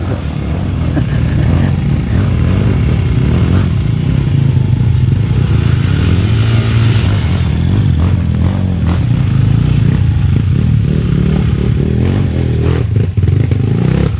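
An enduro motorcycle with no electric start, on a hard mountain trail, runs loud and close with a rough, steady engine drone, while clattering and scraping noises mix in.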